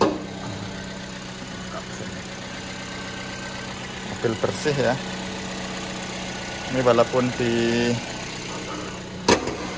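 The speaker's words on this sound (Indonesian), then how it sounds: "Biasanya teman-teman requestnya mesin dinyalakan" A Toyota Yaris idles steadily with the hood open, a constant mid-pitched engine hum running throughout while a person speaks over it in short bursts.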